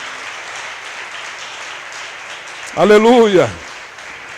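Church congregation applauding during a worship service, a dense steady wash of clapping that continues while a voice rises over it with a brief shout.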